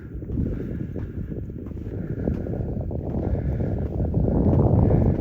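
Steady low wind rumble buffets the microphone throughout on top of a tall sand dune ridge, growing slightly stronger toward the end, with no voices.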